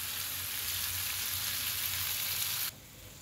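Whole dried red chilies fry in hot oil with a steady, close sizzle for a vegetarian cabbage dish, the crackle cutting off abruptly near the end and leaving a quiet hum.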